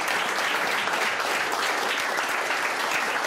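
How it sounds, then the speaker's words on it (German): Steady, dense audience applause greets a speaker at a German talk on gender mainstreaming, a continuous even wash of clapping filling the room for a few seconds without voices on top. "ihr könnt euch gerne alle auch mitfreuen mit einem Applaus"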